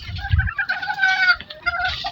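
Tied gamecock roosters clucking close by, a few quick bursts of clucks and squawks over soft low thumps.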